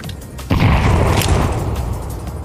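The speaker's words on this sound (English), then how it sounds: "I'm throwing a grenade!" A grenade blows up in Counter-Strike 2 with a sudden loud boom at half a second, then a heavy rumbling tail that slowly fades. No one speaks.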